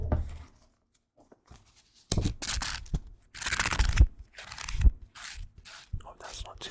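Pages of an old 2002 Prima strategy guide with a coffee-stained cover are handled up close, producing soft crinkles and riffling bursts of paper, with a quiet stretch near the start and the loudest rustles in the middle.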